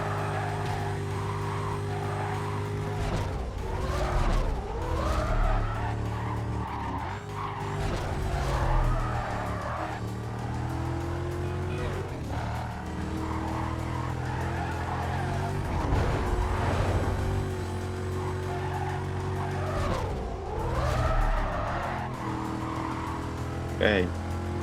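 Car racing and drifting in Need for Speed Carbon: a steady, loud engine drone rises and falls with gear changes, and tyre skids squeal through turns, with a voice talking over it.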